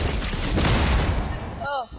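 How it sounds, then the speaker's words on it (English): A rail gun fires in a video game battle, a loud, dense broadband blast that rolls on for most of the moment, then cuts out into a short, bright rising whine at the end. "What the hell is that? Oh, it's a rail gun."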